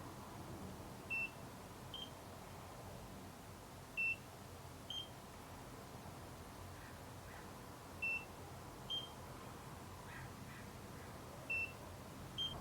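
Short electronic beeps from a NIRA laser device sound at intervals, some doubled, over a steady low background hum; fairly faint, no talking.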